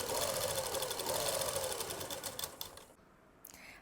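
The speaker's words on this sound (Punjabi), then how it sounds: "ਹੁਣ ਆਪਾਂ ਸਲਾਈ ਲਗਾਵਾਂਗੇ" A sewing machine stitches palazzo fabric in a fast, steady whirring run close by, then slows and stops near the end with a brief final burst.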